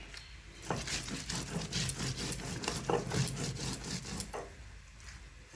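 Onion, garlic and fried dried chillies with salt being ground on a grinding stone, a steady rough scraping and rasping of stone on stone that keeps going with no pause, close up, and nobody speaking.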